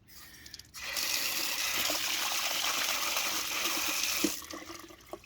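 A newly installed garden tap gushes steadily as it purges air, a loud, close, continuous rush lasting a few seconds before it tapers off, with no talking over it.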